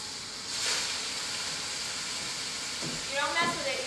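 Beef seared in a hot pan on high heat for a slow cooker stroganoff gives a steady, close sizzling hiss throughout, with a brief louder crackle near the end.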